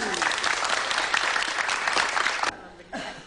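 A crowd claps loudly and continuously for several seconds, then the applause cuts off abruptly, leaving a brief lull and a short voice.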